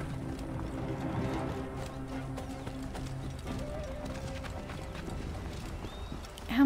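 Horse hooves clip-clop steadily in Assassin's Creed Origins, with a whinny and brief game sounds over a low ambient bed, ending in a louder burst.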